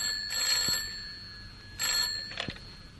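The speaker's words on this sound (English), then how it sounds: "Almost at once, the telephone rang." Two bursts of a telephone bell ringing, used as a sound effect in a 1961 BBC radio drama. The bursts are evenly spaced and moderately loud, each ending with a click, and no voices are heard.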